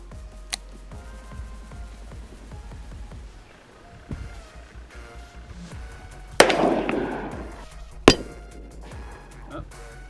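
A .38 Special revolver fires at a steel target outdoors: two sharp loud shots a couple of seconds apart, each with a crack and ringing metallic clang, after a faint earlier click and some low background rumble.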